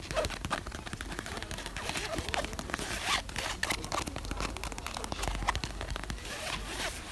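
A zipper on a pink backpack being worked back and forth in quick repeated pulls, giving a close, dense rasping buzz that continues throughout.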